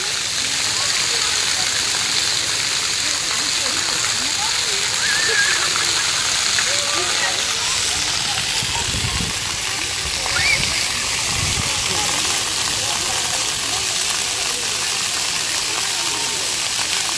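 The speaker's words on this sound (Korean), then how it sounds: "분수대에서 어린이들이 아주 시원하게 놀고 있습니다" Outdoor water fountain splashing steadily as children play in the spray, a continuous broadband wash of falling water with faint background voices mixed in.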